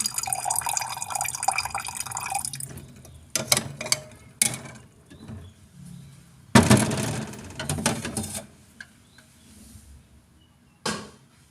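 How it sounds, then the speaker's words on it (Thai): Cold water poured into a sweet fruit drink, with bursts of splashing and trickling separated by pauses and a few clinks, close and fairly loud. "เสร็จแล้วก็ผสมน้ำเย็น"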